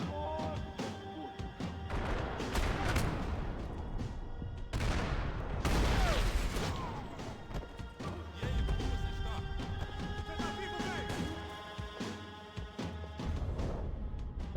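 A sniper rifle fired from the hip in the video game Max Payne 3, amid a busy firefight of repeated loud gunshots, crashes and thuds.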